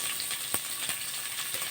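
Sliced big onions frying in oil in a pan, a steady close sizzle with a few faint clicks of stirring, no voices.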